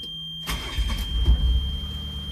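A car engine catches and revs up, a close, loud rising roar with a few surging pushes of the throttle after a brief lull, while an oil pressure gauge climbs high.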